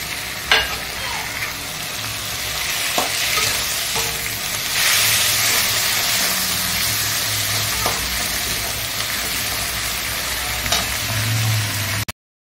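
Ginger-garlic paste and cumin paste sizzle steadily in hot oil in a pan, the frying loud and close, with repeated scrapes and clicks from stirring and no talk.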